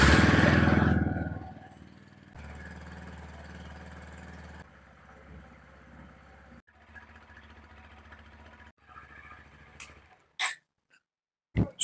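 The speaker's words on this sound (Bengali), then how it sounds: "আমরা বাইকটা ইঞ্জিন স্টার্ট দিয়ে রেখেছিলাম 2 মিনিটের মতো" A motorcycle engine idling after a wash to warm up and dry off, a low steady hum heard at moderate distance after a louder opening burst, fading into near silence with a few sharp clicks at the end.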